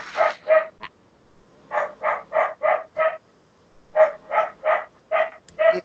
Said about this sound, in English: your dog is distracting me